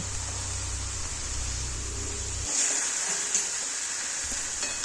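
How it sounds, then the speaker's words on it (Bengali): Cabbage pieces and mixed vegetables are stir-fried in a pan for a fish-head vegetable dish, a faint continuous sizzle with a low hum underneath and a few soft stirring sounds. "এখন আমি বাঁধাকপি সমেত সমস্ত সবজিগুলিকে ভালো করে কষিয়ে নেব"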